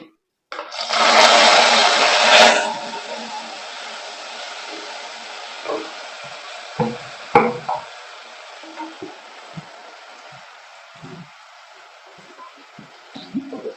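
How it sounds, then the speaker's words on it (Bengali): Spinach with cumin and a homemade spice mix sizzles loudly in a pan for about two seconds, then settles into a soft steady fry, with scattered scrapes and knocks of stirring. "এটাকে আমি ভালো করে নেড়ে নেব।"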